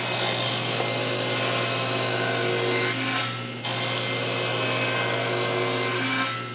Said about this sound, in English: So I'll take the scrap that I have left over and I'm gonna cut 2 half-inch sections.